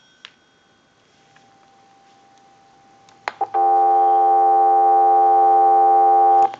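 A field telephone under repair emits a few faint clicks and ticks, then a steady dial tone begins and drones alone at constant loudness for about three seconds before cutting off.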